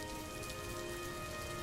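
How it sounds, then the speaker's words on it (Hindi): Steady patter of water drops falling from a wooden door frame, a dense, even dripping like light rain, continuous and moderately quiet with no voices. "सिर्फ पानी की बूंदें जो लकड़ी की चौखट से टकराकर गिर रही थीं"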